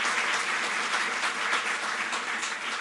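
Steady, dense applause from an audience at a government ceremony honouring medal-winning athletes, a continuous roar of clapping that holds evenly and stays loud throughout.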